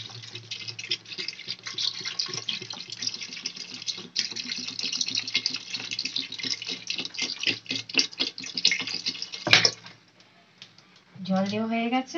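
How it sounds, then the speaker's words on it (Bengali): Water is poured into a pot of fried vegetables for a chicken stew, with close splashing, clattering and dripping. The sound stops abruptly, goes quiet, and then a voice is heard briefly. "এবার আমরা জল দিয়ে দেবো।"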